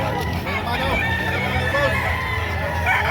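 A rooster crows amid a busy Batangas chicken market, with clucking fowl and a crowd murmuring close by throughout.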